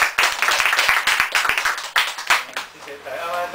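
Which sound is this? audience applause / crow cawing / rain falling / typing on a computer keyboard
audience applause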